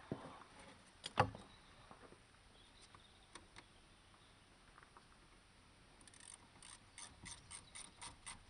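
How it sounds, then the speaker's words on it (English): Ratchet loosening the rear brake caliper bolts on a Renault Megane, faint quick clicking bursts with a sharp clack early and a rapid run of ratchet clicks toward the end. "take off the two nuts that hold it in, two bolts, sorry, on the back"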